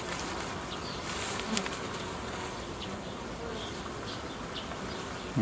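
A dense, continuous buzz of many honey bees fills the air at a beehive, steady and close, with individual bees droning past.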